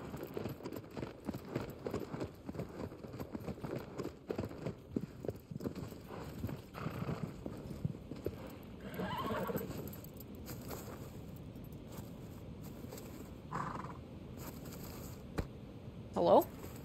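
A horse in Shadow of the Colossus trots with steady, close clip-clop hoofbeats under faint jangling tack and a brief whinny, while a player talks now and then over the game sound.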